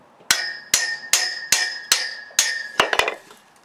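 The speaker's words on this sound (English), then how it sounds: "this is a 2-pound ball peen hammer, you just want to go between the metal bracket and the pipe" A 2-pound ball peen hammer strikes a steel bracket against a pipe about eight times in a steady rhythm, each sharp ringing clang close and loud, the last blows coming quicker.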